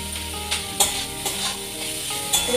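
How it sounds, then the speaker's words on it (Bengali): Vegetables for chow mein sizzle in a hot pan, loud and close. A steady frying hiss runs throughout, broken by several sharp clinks and scrapes of stirring. "ভালো করে একটু ভেজে নেবো, ভাজতে ভাজতে মোটামুটি সেদ্ধ হয়ে যাবে।"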